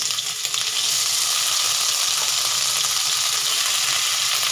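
Crushed green coconut hits hot ghee in a pan over a low flame, producing a continuous, close, even sizzle that holds steady throughout.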